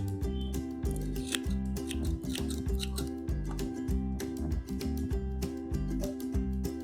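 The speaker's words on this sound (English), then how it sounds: "I'm just going to trim off this glued end." Scissors snip repeatedly through the glued end of a bundle of about 120 saree tassel strands, giving crisp close clicks in an irregular rhythm over steady background music.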